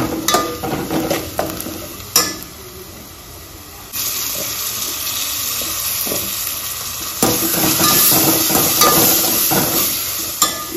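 Shahi biryani masala stirred with vegetables in a frying pan over a low flame, a steady soft sizzle with scraping strokes of the spoon, louder stirring clatter near the start and toward the end.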